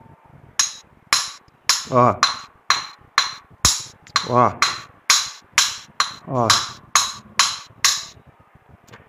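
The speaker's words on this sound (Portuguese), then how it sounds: "bater com martelo." Steel hammer striking a car starter bendix drive in a repeated series of about a dozen sharp, loud metallic blows with ringing tails, steady rhythm, close by; someone briefly speaks between some strikes.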